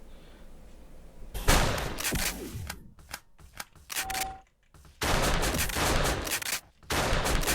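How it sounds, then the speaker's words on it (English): Shotgun fire in a video game, short-range weapon: loud bursts of gunfire and impacts in several clusters, with brief gaps between volleys amid busy game combat noise. "Now the shotgun, it's a short range weapon, although you can also use it mid range."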